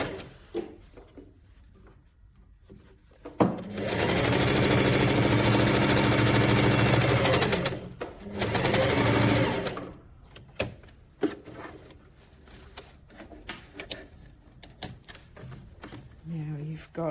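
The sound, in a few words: sewing machine stitching fabric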